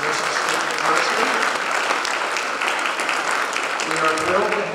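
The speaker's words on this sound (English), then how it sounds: "How about a nice hand and applause for our students at Westfield State University?" A lecture audience claps steadily for Westfield State University students, a dense, sustained wash of applause from a full room with faint voices mixed in beneath it.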